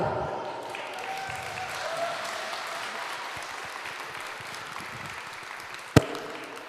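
Audience applause in a mini-club during a blues and pop-gospel concert, a steady dense wash of clapping throughout with one sharp bang near the end.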